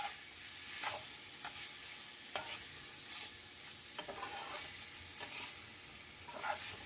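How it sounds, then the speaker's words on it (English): Seitan vegan steaks frying in a pan, a steady soft sizzle with intermittent stirring and scraping touches, close and alone without talk. "So you just want to fry them up a little bit."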